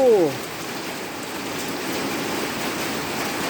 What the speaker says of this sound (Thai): ฝนตกแล้วเช้านี้ฝนตกครับผม